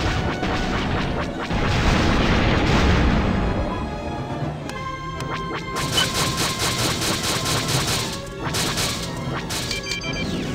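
Starship explodes in the X-Wing Alliance space combat game: a heavy crashing boom swells and rumbles for several seconds, followed by further blasts and bright metallic crackles layered with game effects.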